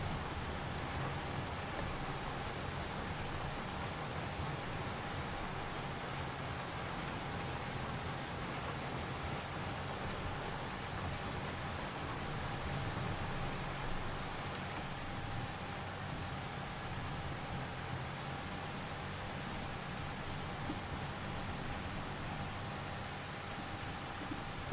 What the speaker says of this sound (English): the sound of the rain falling in the game is kind of soothing.